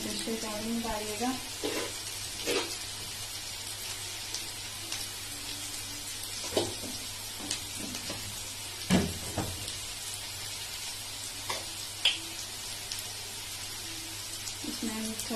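Vegetables for veg chowmein sizzle and fry in a pan, a continuous crackling hiss with scattered scrapes and clicks as they are stirred.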